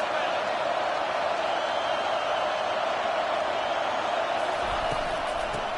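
A dense, steady roar of a large stadium crowd at an Oregon vs Tennessee game in College Football 25 fills the clip, loud and unbroken, without a clear voice on top.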